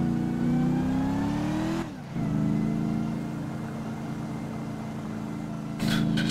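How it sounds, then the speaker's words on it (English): A car slowly overtaking on the road, its engine droning steadily with a climbing pitch that levels off, a brief dip just before two seconds and a sharper noise burst near the end; no talking. "Slowest overtake known to mankind."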